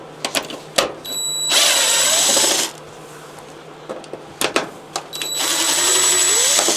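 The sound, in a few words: power tool opening T20 Torx screws on a Miele dryer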